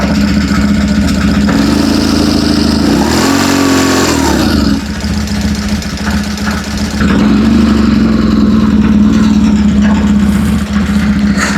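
A BMW R1150GS motorcycle engine runs steadily just after a fuel pump replacement, a loud, close idle with a brief rev rising and falling in the middle, no talking over it.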